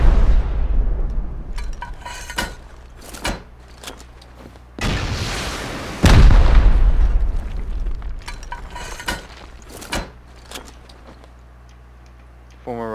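Rockets blast into a double-stacked armored stone base during a raid in the video game Rust, with several loud broadband explosions, the biggest near the five- and six-second marks, among sharp impacts and debris crackle, while players talk over it.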